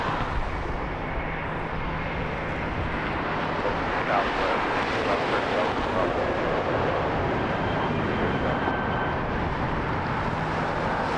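An Air New Zealand Boeing 777 taxis at Las Vegas airport, a broad, steady jet-engine rumble and hiss at moderate distance, with wind buffeting the microphone throughout.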